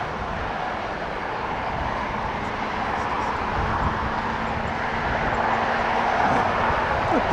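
An airliner taxis toward a departure from Los Angeles International Airport, bound for Munich, heard as a steady, moderately loud engine roar that holds even across the whole stretch and swells slightly toward the end.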